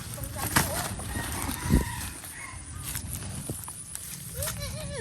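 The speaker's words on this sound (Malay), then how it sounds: "Sini ayam semua dia." Chickens clucking and a rooster crowing around a rural yard, scattered calls over background clatter and nearby talking.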